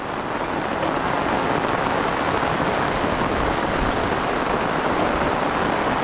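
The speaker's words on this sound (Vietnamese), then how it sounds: "Mưa to quá." A downpour of heavy rain roars steadily and loudly, a thick unbroken wash of drops striking nearby surfaces with running water mixed in, and no talking.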